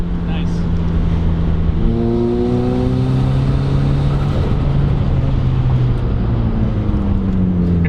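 A turbocharged daily-driver car roars loud and near on a dyno, its engine pitch climbing steadily through repeated revving sweeps under wide-open throttle. The engine note stays sustained throughout.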